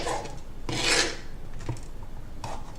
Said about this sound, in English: slice this into large slices and then into larger chunks like so